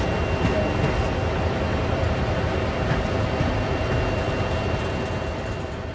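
A train in Train Sim World 2020 gets under way with a steady, loud rumble and hum, holding constant through the whole stretch.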